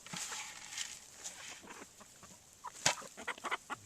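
Chickens cluck softly and intermittently nearby, with scattered scratchy rustling and one sharp click partway through.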